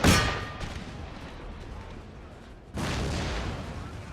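Cannons fire on an Empire: Total War battlefield: a sharp, loud artillery boom opens, rumbling off, then a second heavy volley crashes in near the end.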